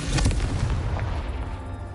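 A Confringo blasting spell goes off in Hogwarts Legacy, a loud booming explosion with a heavy low rumble that swells early and then trails off in a dense, sustained roar.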